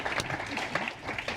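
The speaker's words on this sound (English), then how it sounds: "Round of applause." Applause from a conference audience for panelists at a cloud-computing event, a brief burst of steady clapping from the room, moderately loud and continuous.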